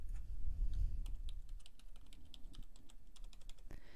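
Fingers typing a password on a computer keyboard, a quiet sequence of light, irregular key clicks close by over a low background hum, without any speech.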